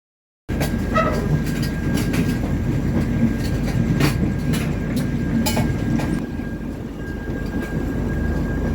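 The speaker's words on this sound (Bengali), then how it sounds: "দশটা পঁয়ত্রিশেই কিন্তু আমাদের ট্রেনটা স্টেশন থেকে ছেড়ে বেরিয়ে গেল" A passenger train pulls out of a station and runs on, a loud, steady rumble with rhythmic wheel clatter close by, heard without any voices.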